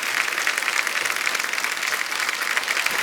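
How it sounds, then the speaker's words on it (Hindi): Studio audience at a comedy show giving loud, steady applause for guests, a dense even wash of clapping that lasts throughout without talk. "चलो एक बार जोरदार तालियां मिस्टर जॉन अब्राहम"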